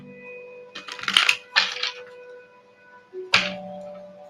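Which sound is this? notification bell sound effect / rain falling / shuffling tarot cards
shuffling tarot cards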